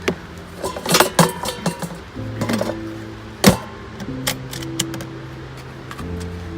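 Pots and pans clatter and clink inside a camper van cupboard as they are handled, a string of sharp close metallic knocks and rattles with short ringing tones between them, quiet in the gaps.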